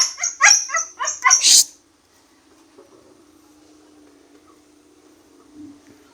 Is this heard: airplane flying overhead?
no